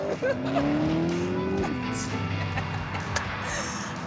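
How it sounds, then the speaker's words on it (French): A 440-horsepower Porsche sports car accelerates hard, its engine note climbing steadily then shifting and settling, with a tire squeal and an excited voice exclaiming over the loud, close engine. "avec une Porsche de 440 chevaux, capable de monter à 100 km/h en 4 secondes, je pense qu'il faut mieux que tu t'accroches"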